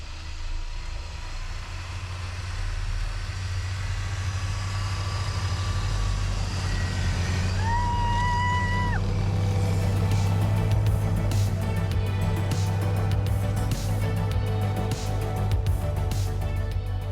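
A car fitted with homemade snow tracks drives over snow, its engine a steady, loud low drone that holds throughout, with a faint rising whine partway through and no talking.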